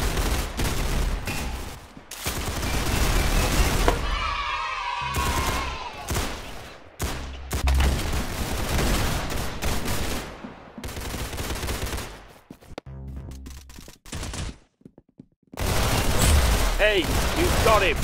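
Gunfire in the Roblox game Arsenal, on the aircraft map, comes as repeated bursts of rapid shots and booms, loud and close, with short quiet gaps and voices talking between them.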